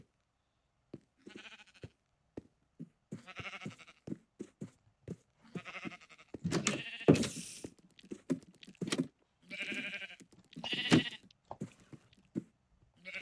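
Sheep in the video game Minecraft bleat repeatedly in wavering, nasal bursts at an irregular pace, some louder and closer than others, with no talk over them.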